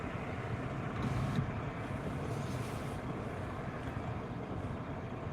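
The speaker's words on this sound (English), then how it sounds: "Sounds like his engine's sputtering." Low, continuous rumble of a tractor truck rig engine sputtering while being started, distant and muffled, with a slight swell about a second in and no talking.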